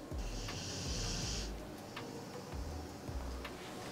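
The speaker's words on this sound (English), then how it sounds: "I wish you guys could hear Gus snoring right now." Low, rhythmic snoring breaths rumble quietly and close by, with soft ticking in the background.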